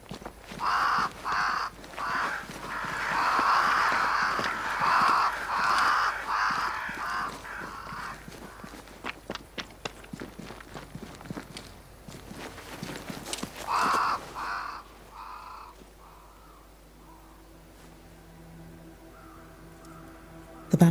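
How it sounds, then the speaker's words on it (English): Crows caw near a great tree in the video game Banishers: Ghosts of New Eden, repeated harsh calls in a loose rhythm over ambient sound that thin out and fade to quiet near the end. "crows. They flock to that great tree up there."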